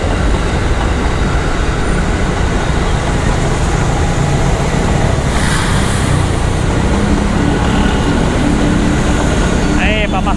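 A KRL electric commuter train passing near a railway line, a loud continuous rolling roar and rumble of wheels on track, heard over wind noise from a moving motorcycle.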